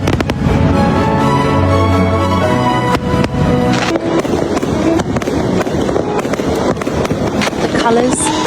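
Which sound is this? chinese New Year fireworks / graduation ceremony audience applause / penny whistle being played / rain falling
chinese New Year fireworks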